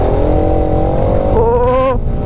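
A new motorcycle engine runs loud and close, then gives a short rev that climbs in pitch before dropping back.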